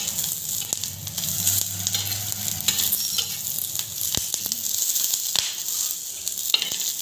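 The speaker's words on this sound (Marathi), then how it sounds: "तेल टाकून घेते मी मिरच्यावर. छान एकदम खमंग भाजून घ्यायचं" Green chillies roast and sizzle in hot oil in a pan, a steady close crackling hiss that runs unbroken, with a few sharp pops and stirring scrapes along the way.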